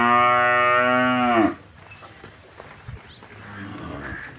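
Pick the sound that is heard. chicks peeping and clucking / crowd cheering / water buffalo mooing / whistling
water buffalo mooing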